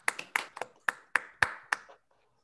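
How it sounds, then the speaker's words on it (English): Online audience members unmute after an academic physics talk and clap: about eight sharp, scattered handclaps over two seconds, close and uneven, then quiet. "unmuting and awkwardly clapping in 3, 2, 1"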